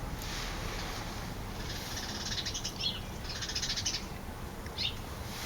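Faint whistled bird calls sound a few times over steady outdoor background noise, with no one speaking.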